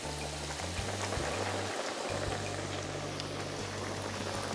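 Two tonkatsu pork cutlets fry in hot oil, giving a soft, continuous bubbling crackle close by, with a low steady hum underneath and no speech.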